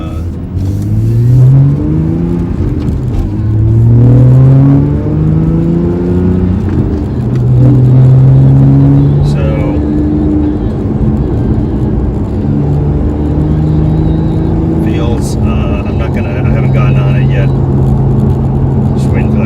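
Porsche 911 with a custom Cobb/Fabspeed tune accelerating hard in Sport Plus mode, its engine note climbing steadily in pitch through the gears, loud and close, with a person talking over it.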